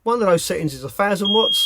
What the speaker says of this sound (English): There goes my gas alarm.